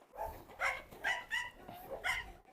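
A herding dog barks repeatedly in quick, yappy bursts, fairly close and clear, with brief pauses between barks.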